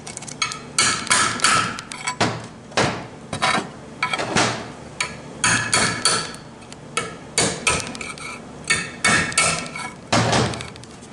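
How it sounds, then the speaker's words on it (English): Repeated sharp metallic hammer blows knock a part off a 4T65E transmission channel plate, ringing out in a steady, uneven rhythm, loud and close, with no voices. "take this right here and a hammer, and you're gonna knock that off"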